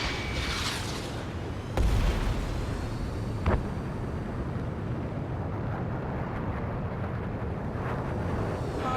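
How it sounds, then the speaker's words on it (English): Ace Combat 7 air combat sequence with a continuous jet engine roar throughout, broken by a sharp missile launch crack and then a booming explosion a moment later. "Strider 1, missile launched."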